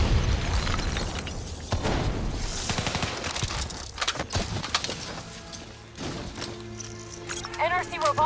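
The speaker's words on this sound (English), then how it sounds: "They're about to detonate!" Rogue robots detonate in Call of Duty: Black Ops 3 with a run of booming explosions and rattling bursts of gunfire, dense and loud throughout, fading toward the end into a quieter mechanical tone and chirping.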